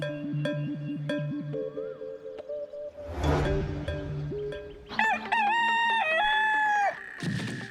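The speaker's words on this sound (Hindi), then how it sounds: "कहीं असली मुर्गा कुकड़ू कर रहा है अभी" A rooster crows in a rising, drawn-out call near the end, after clucking fowl and other farmyard sounds with electronic tones in a TV drama scene.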